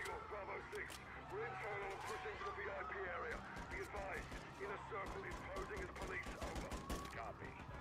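Rattling automatic gunfire and scattered shots from the Modern Warfare campaign video game run continuously under frantic talking, busy and dense throughout.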